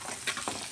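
A red rajma curry is stirred in a hot pan, giving a steady close sizzle with soft scraping strokes through the thick mixture.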